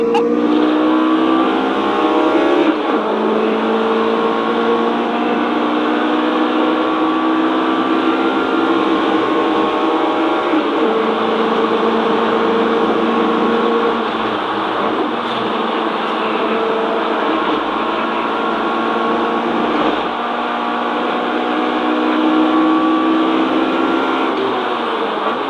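A race car laps Snetterton circuit in qualifying, heard onboard as a loud, continuous engine roar that climbs and drops in pitch through gear changes and corners, with no breaks.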